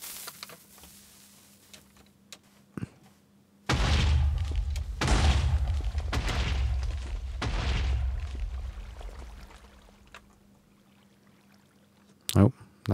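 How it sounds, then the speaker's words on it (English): Several TNT blasts go off in a blocky sandbox video game, a long, loud rumbling roar of overlapping explosions lasting about six seconds after a quiet stretch, then fading, with a sharp pop near the end. "Oh, that was about 5 blasts."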